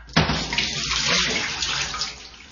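Dirty water sloshes and splashes loudly as a container holding it is shaken, a steady close-up wash of liquid noise lasting a couple of seconds.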